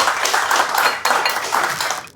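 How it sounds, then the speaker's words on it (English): An audience claps for Bernard Taylor, a hoped-for future congressman, in a steady, fairly close round of applause that swells in waves and cuts off abruptly at the end. "Round of applause"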